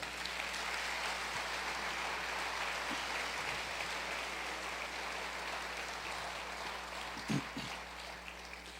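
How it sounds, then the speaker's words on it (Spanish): Steady applause from a church congregation fills the space, a dense even patter of many hands clapping at moderate distance, with a brief louder knock near the end. "Dale un aplauso al Señor."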